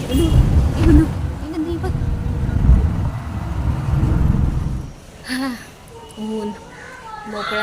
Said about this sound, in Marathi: आता रस्ता क्रॉस करून घेते आणि रिक्षा पकडते